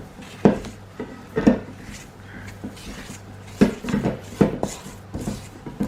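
Icing being mixed in a bowl with a wooden spoon gives irregular knocks and scrapes against the bowl, with a low hum underneath.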